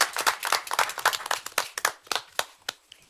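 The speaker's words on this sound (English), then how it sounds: "And I gave a really big clap." Clapping at a city council meeting, a small group's scattered claps that thin out to a few isolated hand slaps, fairly close and with no talk over them.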